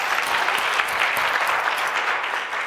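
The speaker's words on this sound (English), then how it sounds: "Could we have a huge round of applause for Ken?" Sustained applause from a seated audience at a storytelling and presentation skills workshop, dense steady clapping filling the whole stretch with no voices over it.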